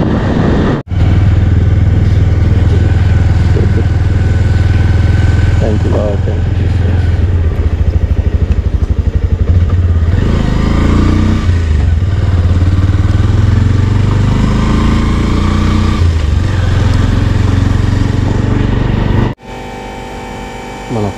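Bajaj Avenger 160 Street motorcycle on a long non-stop ride, its engine a steady, loud, close drone with road and wind rumble that holds for nearly the whole stretch before briefly cutting out near the end.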